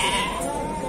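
A lamb at a crowded sheep market in Beylagan gives a single short, wavering bleat, close and clear over background chatter.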